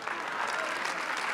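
An audience at a church sermon applauds. The clapping is dense and steady, with a faint crowd murmur underneath and no clear speech.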